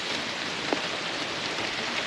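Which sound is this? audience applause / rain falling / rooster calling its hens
rain falling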